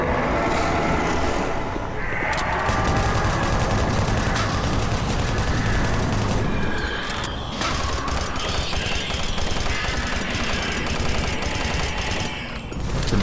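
Dense, sustained gunfire from a large weapon in the shooter game Doom 3: Resurrection of Evil, loud and continuous for the whole stretch, layered with roaring mechanical game noise and no talking.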